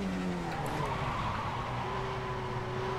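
A Mazda MX-5 in iRacing brakes hard at Laguna Seca, its tires letting out a continuous wavering squeal over a steady engine drone for several seconds.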